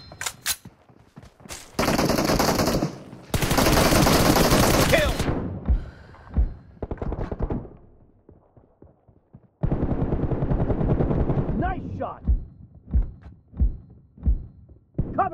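Gunfire in a shooter video game: loud sustained bursts of automatic fire, then pauses and a run of sharp single shots and short volleys, close and punchy.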